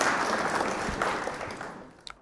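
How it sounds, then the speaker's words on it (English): At a live Flesh and Blood trading card game event, the audience gives the opponent a round of applause: dense clapping that gradually fades out, ending with a couple of final isolated claps. "Round of applause for our opponent."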